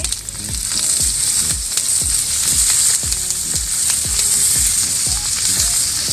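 Garlic sizzling in hot oil on a wood-fired village stove, a loud, close, continuous crackling fry with a quick run of rhythmic tapping thumps beneath it.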